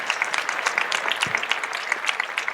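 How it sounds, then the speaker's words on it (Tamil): Audience of parents and children at a school event in Erode gives a round of applause for a boy, a steady patter of many hands clapping at moderate distance. "அவருக்கு ஒரு கூடுதல் கைத்தட்டு கொடுங்க."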